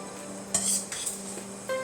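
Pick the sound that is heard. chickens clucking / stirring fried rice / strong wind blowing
stirring fried rice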